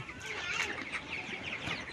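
Soft clucking from a flock of about seven hundred 24-day-old poultry-farm chickens, faint and continuous, blended with a steady rushing background of strong wind.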